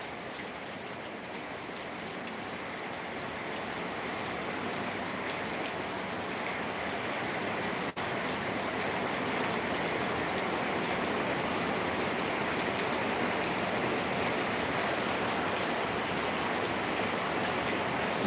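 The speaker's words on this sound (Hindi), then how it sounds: "पानी बरसेला।" Steady rain pours down outdoors, a dense continuous hiss with a trickling, streaming wash throughout, fairly loud and unbroken, with no voices over it.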